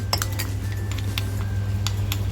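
A utensil clinks and scrapes against a dish while salt and homemade all-in-one masala are mixed for steamed pomfret in banana leaf, with quick metallic taps over a steady kitchen hum.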